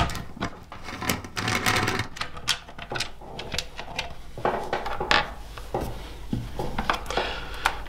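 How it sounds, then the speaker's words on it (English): An 8mm socket works loose four bolts on a 2019 Yamaha Tenere 700, giving a close, busy run of ratchet clicks, metallic taps and handling clatter that continues for several seconds. "Remove the four bolts on the top here using your 8mm socket."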